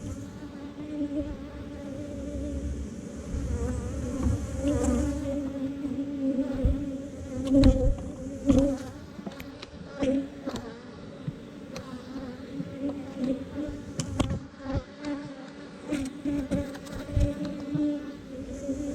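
Honeybees hum steadily in a dense, continuous drone while an open hive is inspected during honey season, with occasional brief knocks and rustles of frames close by.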